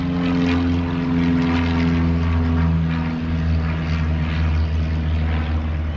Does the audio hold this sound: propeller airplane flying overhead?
yes